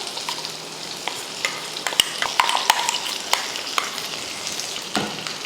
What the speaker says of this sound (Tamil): வெண்டைக்காயை இந்த மாதிரி தாளிப்பில் போட்டு வதக்கிக்கோங்க.